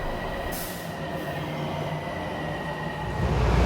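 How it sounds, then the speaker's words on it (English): A Miami Metrorail train rolls along with a steady rumble and a faint high whine, growing louder toward the end, no talk heard. "We're on Metro Rail here"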